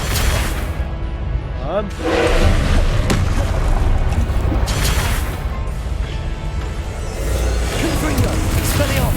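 Spell-blast effects from a Hogwarts Legacy battle, including the Confringo blasting spell: repeated booms, crashes and whooshes layered under game music, with a voice calling out spell names throughout.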